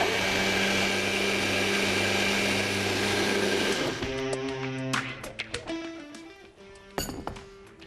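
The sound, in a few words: blender running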